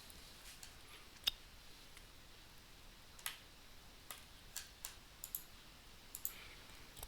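Sharp computer mouse clicks while trimming a wrench drawing in CAD software, faint and close, an irregular series of single taps spaced about a second apart over quiet room tone.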